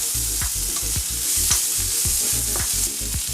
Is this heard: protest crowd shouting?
no